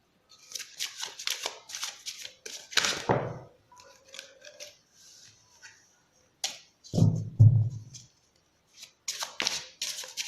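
Tarot cards are shuffled and drawn in bursts of crisp riffling and rapid flicking, with slaps and rubs as the cards are laid down. Everything is close and moderately loud, broken by short pauses.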